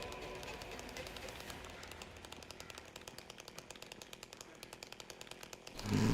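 Chainsaw revving in the Silent Hill 2 Remake horror game, with a sputtering, rapidly pulsing motor that runs steadily and then surges louder at the end.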